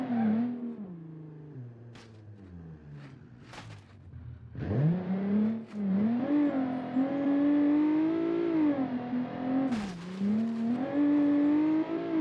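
1990s police car accelerating hard: the engine note climbs steeply through the revs, drops briefly at gear changes and then pulls up again. It is loud and close, with no talk.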